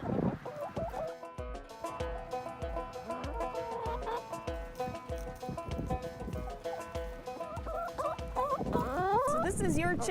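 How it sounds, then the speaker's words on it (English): Chickens cluck and chatter inside a very large coop, with repeated rhythmic knocks and scuffs underneath and a rising burst of squawking toward the end, fairly close. "So this is your chicken coop, but it's more like a chicken hotel or a chicken resort."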